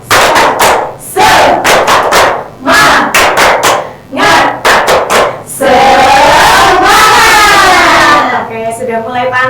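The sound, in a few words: schoolchildren doing the 'tepuk semangat' clapping chant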